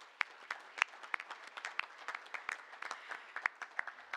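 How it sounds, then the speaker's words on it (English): Sparse round of applause from a small audience at a school board meeting, individual hand claps distinct and uneven, fairly faint and close, with no speech. "Let's give them a round of applause."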